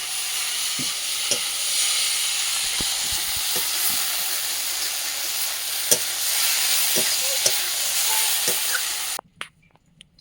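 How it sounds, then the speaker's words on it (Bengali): Shrimp frying in a pan of oil seasoned with turmeric powder, a continuous close sizzle with scattered pops and light utensil clicks, cutting off abruptly near the end. "দিয়ে চিংড়ি ওগুলো সুন্দর করে ভেজে দেবো।"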